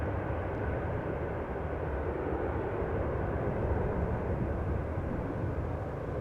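A 23-year-old Boeing 777 airliner at Amsterdam Schiphol Airport produces a continuous low engine rumble, steady and moderately loud from a distance, with no voices.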